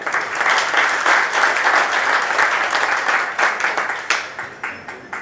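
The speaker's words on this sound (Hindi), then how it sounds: "सबके लिए तालियां।" Applause after a yoga talk, a dense crowd clapping loudly and steadily, then thinning into scattered individual claps toward the end.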